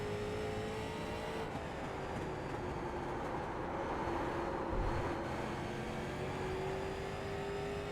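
Street stock race cars at Southern National in the iRacing video game drone steadily with sustained engine tones, a continuous loud roar of several cars running in traffic, no talking.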